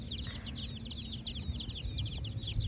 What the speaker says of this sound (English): So I guess I'm gonna house all these little chickens.